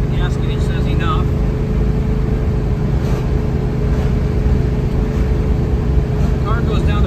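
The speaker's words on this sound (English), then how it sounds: "The car goes down the road good." A 1970 Chevelle car driving down the road, heard from inside as a constant loud rumble of engine and road noise without clear changes in speed.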